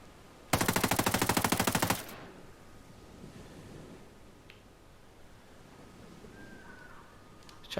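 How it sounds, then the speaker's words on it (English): A 416 Shorty rifle in the video game Ghost Recon Breakpoint fires one loud, sustained full-auto burst of about a second and a half, rapid even shots, followed by quiet background ambience. "We'll do one sighting round, and then full auto."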